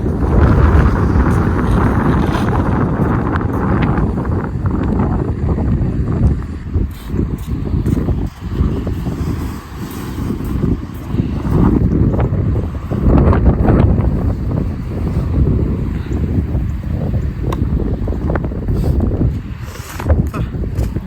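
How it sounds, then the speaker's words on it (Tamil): Strong, steady wind during a snowy winter day in New Jersey roars and buffets the microphone continuously, with gusts rising and falling; faint voices are barely audible beneath it. "இதோ இவ்வளோ காற்று இந்த சைடு இருந்து அடிக்குது"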